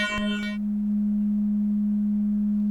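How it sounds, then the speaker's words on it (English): A plain synthesizer sine wave with no wavefolding or effects, one steady pure low tone holding alone after a brief burst of harmonic sound at the start. "Just a straight sine wave."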